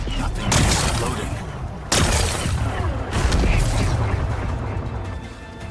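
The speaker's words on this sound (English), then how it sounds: "Gotta blast away some rocks, so I can expose the power cell" Booming blasts breaking apart rocks in the action game Horizon Forbidden West, three loud explosive hits spaced a second or so apart with crumbling debris and voices talking over the mix.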